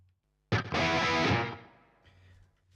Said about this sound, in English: So if I have the 16th delay, it sounds like this.